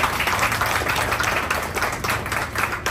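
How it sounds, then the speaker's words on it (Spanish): A crowd at a YouTubers' meetup claps steadily together, a busy, even wash of hands near and far that carries on throughout. "Regálense un aplauso"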